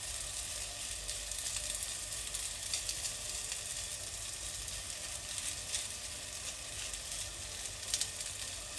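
Broccoli and sweet corn fritters pressed flat in a hot pan, sizzling in oil with a steady, even hiss and no talk.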